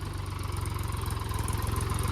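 A farm tractor engine runs close by with a fast, pulsing diesel chug, loud and steady throughout, no voices over it.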